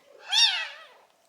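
A single clear meow from a black kitten in a grain cart, close and loud, rising then fading over about a second.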